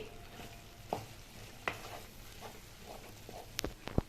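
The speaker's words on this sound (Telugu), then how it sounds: "2 నిమిషాల తర్వాత కలుపుతున్నానండి" Ragi flour and wheat rava upma gets stirred in a pan on a low stove, with a soft steady sizzle broken by a few sharp scrapes and taps of the spoon against the pan.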